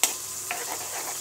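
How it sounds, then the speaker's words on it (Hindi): Spinach for palak paneer is stirred in a hot pan with a short scrape and soft sizzling frying, brief and close, with no voices. "इसको सही से हिला लें।"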